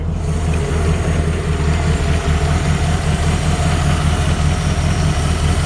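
A 1964 Ford Fairlane 500 with a freshly installed, low-mileage engine idles steadily up close under an open hood, a loud, even low rumble that holds without change throughout.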